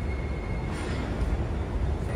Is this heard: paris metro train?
yes